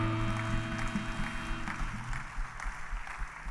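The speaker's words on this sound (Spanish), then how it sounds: "Dale un fuerte aplauso al Señor" Church congregation applauding together during a worship service, a steady broadband patter of many hands filling the room, with music or sustained tones underneath.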